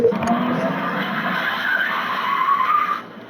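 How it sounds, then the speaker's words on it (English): Tires skid loudly as a car slides under the handbrake in the Car Mechanic Simulator 2021 video game, a continuous screeching slide lasting about three seconds before cutting off. "you just like accelerate and then just pull the e-brake and it'll slide like that"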